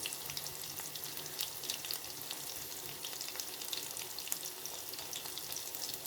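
Onion and pumpkin pieces sauté in oil in a pan for a pumpkin chutney, giving a steady close sizzle and crackle throughout with occasional stirring, no voices heard.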